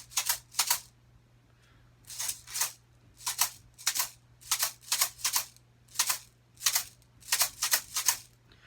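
A homemade rice shaker gives quick, dry, rattling shakes in uneven groups of one to three, varied in how it is shaken, close and fairly quiet, with a faint steady hum underneath and no voices.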